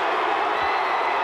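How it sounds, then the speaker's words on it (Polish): Large wrestling arena crowd booing John Cena, a dense sustained roar of many voices with no single caller standing out, loud and continuous throughout. "ja słyszę jakieś buczenie"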